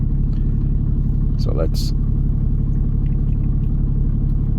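A 2015 Ram 2500 4x4 truck engine idles with a loud, steady low rumble close by, and a person speaks briefly over it.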